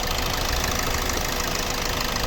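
A 2015 Hyundai i40 1.7 CRDi diesel engine idles steadily with a continuous, gravelly knocking rumble, close and constant throughout.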